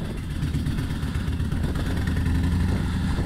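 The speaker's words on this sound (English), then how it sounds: "So we'll get it fired up here. It's got the Two Brothers exhaust, so it should sound pretty good." The engine of a 2020 Harley-Davidson Low Rider fitted with a Two Brothers exhaust runs close by, a deep, loud, throbbing idle with slight revs and no talk.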